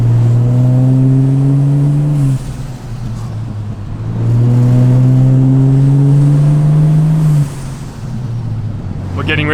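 A Ford Barra-engined car revs up through its gears to 100 km/h, drops off sharply under hard braking to about 15 km/h to bed in brake pads, then climbs again in a second strong run, with road and wind noise throughout.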